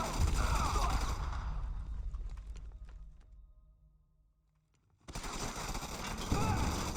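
Rapid rifle gunfire and combat effects from the real-time strategy game Kane's Wrath, a Steel Talons versus GDI match, dense and loud for several seconds, dropping to near silence before the battle noise resumes abruptly.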